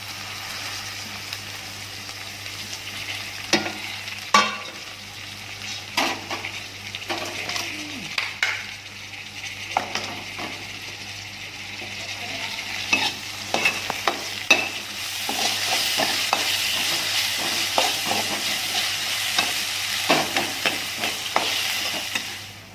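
Tomatoes sizzling and frying with softened onions in a pan while being stirred for a homemade fish curry, with repeated scraping and clinking of a spoon against the pan over a steady sizzle that grows louder midway, no talk.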